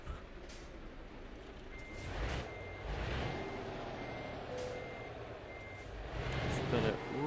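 In the Euro Truck Simulator 2 video game, a truck backs into a garage with evenly spaced reversing beeps over a low engine rumble and a hiss of air brakes, with faint talk in the background.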